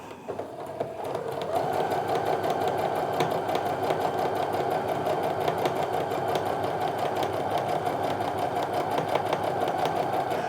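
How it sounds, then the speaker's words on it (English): A sewing machine stitches a scant quarter-inch quilting seam, starting after a brief pause and then running in a steady, fast rhythmic whir, close and continuous. "I'm just gonna go ahead and sew that scant quarter and seam."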